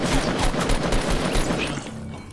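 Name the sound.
gunshots from the video game Fortnite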